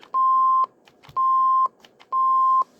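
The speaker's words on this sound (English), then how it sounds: "It's kind of a weird beep." K-Po DX 5000+ CB radio giving its factory beep: three long, identical, pure electronic tones, each about half a second, evenly spaced with short quiet gaps and faint clicks between.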